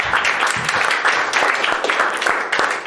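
Lively audience applause at a UNDP and Generali climate-resilience event as a speaker walks on stage, dense rhythmic clapping filling the room at a fairly loud level throughout.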